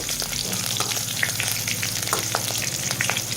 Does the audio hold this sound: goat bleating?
no